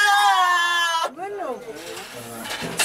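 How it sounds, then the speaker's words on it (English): Goats in a herd give a loud, long wavering bleat lasting about a second, followed by quieter, softer bleats and shuffling close by. "These goats are staring at me."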